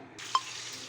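Steamed chicken roast hitting hot oil in a pan, a broad sizzle bursting in suddenly and holding steady and loud, with one brief sharp clink or pop near the start of the frying.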